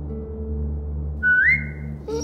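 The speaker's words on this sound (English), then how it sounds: "Now whistle and tell her to lie down." A rising two-note whistle calling a dog in The Walking Dead: The Final Season game, clear and loud over a steady low background hum, followed by a brief second whistle at the end.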